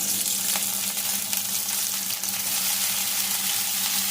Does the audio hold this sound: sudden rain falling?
no